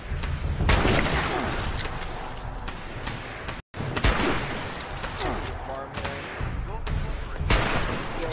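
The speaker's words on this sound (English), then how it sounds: "Okay, people are shooting." Players shooting in Fallout 76, with irregular bursts of gunfire and booming shots scattered through, some near and loud, mixed with other game sounds and a person speaking over them.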